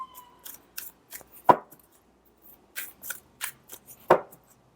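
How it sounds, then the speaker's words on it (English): Tarot cards are shuffled in short, sharp bursts of riffling and slapping, close by and quiet, separated by brief pauses. "I've even changed up the shuffle, and I see the card coming out"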